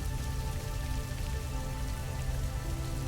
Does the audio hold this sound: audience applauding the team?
no